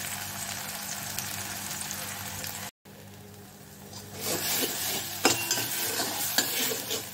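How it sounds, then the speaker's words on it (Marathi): Chili and garlic paste frying in oil in a pan, a soft sizzle under scraping stirs that grow louder and busier in the second half, with a brief dropout midway. "आपलं मिरची आणि लसणाचं वाटण हे चांगल्यापैकी परतलं गेलं।"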